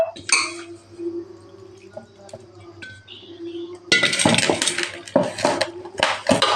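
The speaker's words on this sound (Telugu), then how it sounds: "బాగా కలుపుతున్నాను." Chicken pieces are stirred in a metal cooking pot, with clinks and scrapes of a utensil against the pot, sparse at first and then a dense, louder stretch of sizzling, scraping mixing.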